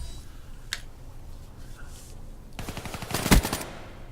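Call of Duty Black Ops III hardcore multiplayer gunfire: a quiet stretch with faint game ambience, then a rapid burst of shots peaking in one sharp, loud crack near the end.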